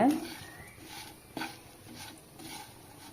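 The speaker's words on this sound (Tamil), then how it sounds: "மீடியம் ஃப்ளேம்லேயே வச்சு நல்லா பெரட்டி விடுங்க நல்லா மிக்ஸ் ஆகிற வரைக்கும் நல்லா பெரட்டி விடுங்க" Spiced raw banana fry being stirred in a pan over a medium flame, a spoon scraping and clinking against the pan with a faint sizzle, one sharper knock partway through, all fairly quiet with no talking.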